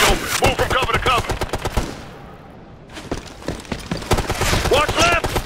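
Rapid bursts of machine gun fire in the Ghost Recon Future Soldier video game during a Bolivian kidnapping mission, loud sharp reports in quick runs, broken by a brief lull, with voices shouting over the shooting.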